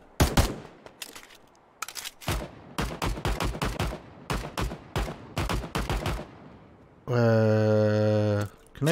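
Rapid, loud shots in Passed Out Prologue, many sharp cracks in quick uneven bursts, then a steady sustained tonal blare near the end; no voices.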